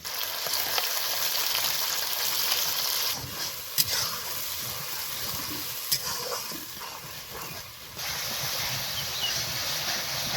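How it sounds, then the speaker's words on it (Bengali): Onion and spice paste fries in oil in a pan, giving a loud, steady sizzle with a couple of sharp stirring knocks, close up and with no voices. "মশলা হালকা করে কষে নিয়েছি"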